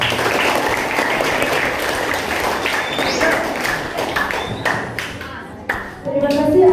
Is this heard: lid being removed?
no